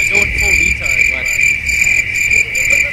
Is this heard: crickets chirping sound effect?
yes